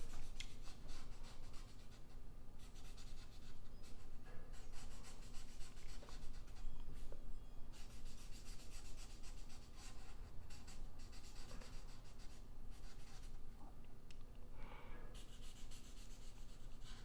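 A pencil shades dark spots onto paper while finishing a cartoon ladybug drawing, a steady close-up scratching and rubbing texture that continues without pause.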